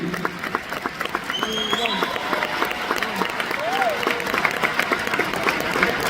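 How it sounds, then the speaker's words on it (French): Applause from an audience seated in a hall, a steady dense patter of clapping lasting throughout, with voices and talk audible over it. "on peut l'applaudir"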